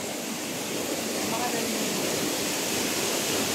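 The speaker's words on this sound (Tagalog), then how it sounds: "kung mapapansin mo, sobrang lakas ng tubig." Strong rushing water surging at a river site after a heavy flood, a steady, loud, dense roar that holds unbroken from start to end.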